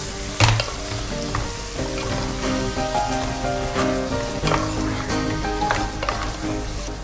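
Mutton pieces fry in a pan for a spicy pepper curry, a steady, close sizzle crackling throughout with a few sharp clinks and stirring scrapes over a dense bed of hot-oil hiss.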